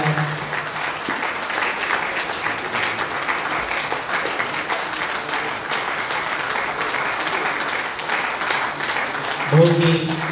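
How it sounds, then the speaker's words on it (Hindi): An audience at a live Shiv Charcha gathering claps steadily for a booklet release; the applause is moderately loud and continuous, and a voice briefly surfaces near the end. "रिकॉर्डिंग के साथ साथ तालियां भी बजाते हैं।"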